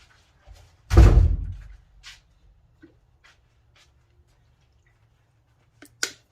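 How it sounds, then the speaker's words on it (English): A craft room door bangs shut with one loud, close thud and a short rumble, followed by small scattered clicks and a sharp knock near the end in an otherwise quiet room. "That was banging my craft room door"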